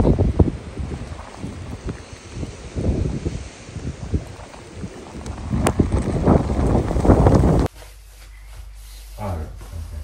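Strong outdoor wind roars and buffets the microphone in uneven loud gusts for several seconds, then drops abruptly to a quieter, steadier rush.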